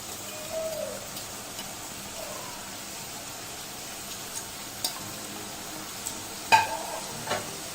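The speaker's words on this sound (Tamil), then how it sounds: "அந்த எண்ணெயில் அது பொரிஞ்ச அந்த சவுண்ட் இருக்கே," Diamond-cut kara para snacks fry in hot oil, giving a steady, soft sizzle broken by a few small pops and light clinks. No one speaks.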